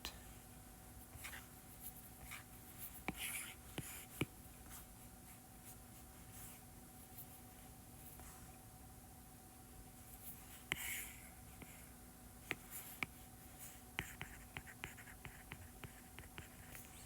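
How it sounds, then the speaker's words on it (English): A pen writes the word carbonate on a board or page, making faint intermittent scratches and taps over a quiet background hum, with no talk. "Let me just write carbonate."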